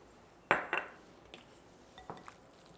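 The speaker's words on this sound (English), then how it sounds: "I'm going to stir everything up" Utensil clinks and scrapes sound against a bowl while shrimp are stirred with salt, pepper and cumin: a few sharp, close knocks followed by quieter taps, with no talking.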